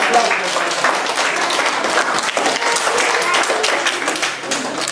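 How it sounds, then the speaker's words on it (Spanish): Schoolchildren in a classroom at an elementary school in the Amazon's Pacaya-Samiria National Park clap together in a lively, uneven burst, with voices mixed in among the claps throughout. "Un fuerte aplauso."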